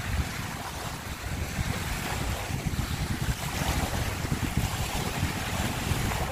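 Sea waves wash steadily against the shore at a seaside in Jubail, Saudi Arabia, a continuous broadband roar with wind buffeting the microphone and no speech.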